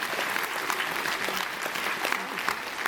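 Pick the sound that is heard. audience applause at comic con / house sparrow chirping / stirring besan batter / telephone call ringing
audience applause at comic con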